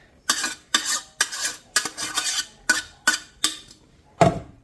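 A celery soup mixture mashed with a spatula in a pan, heard as a steady series of about ten close, scraping and squelching strokes in an even rhythm, loud and with no voices.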